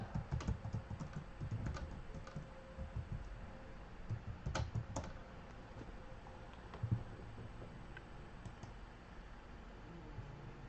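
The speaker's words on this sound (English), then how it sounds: "I'm typing it out." Steady typing on a computer keyboard, a quick run of soft clicks and key taps with occasional louder strokes, fairly close over faint room noise.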